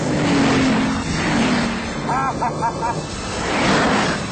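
A 1,000-horsepower Bugatti Veyron accelerates hard at around 300 to 320 km/h while racing a McLaren F1, its loud engine roar filling the clip with a steady rise and fall and a brief voice partway through.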